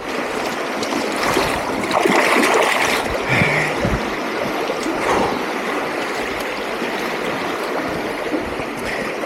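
River water rushes and splashes over rocks, a steady close broadband flow that holds evenly throughout with small surges, with no voices.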